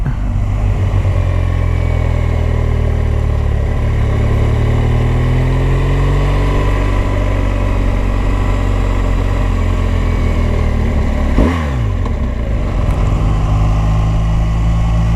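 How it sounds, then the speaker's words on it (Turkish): A car's original exhaust drones loudly and continuously, its engine note rising and settling, with a brief sharp whoosh near the end. "egzozu müthiş ses çıkarıyor ya."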